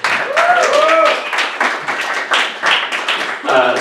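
A comedy club audience claps and cheers for two people called up to the stage, dense close applause with whoops and voices mixed in, keeping up for several seconds.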